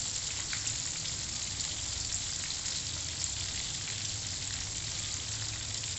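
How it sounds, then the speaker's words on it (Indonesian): Onions frying in a pan for a fish head curry, a soft, steady sizzle and crackle with no voices, faint and even throughout. "goreng dia sampai dia wangi"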